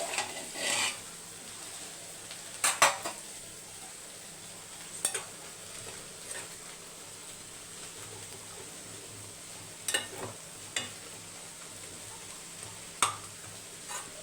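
Greens roasting in an uncovered pan make a low, continuous sizzle, broken now and then by clinks and scrapes of a spatula against the metal.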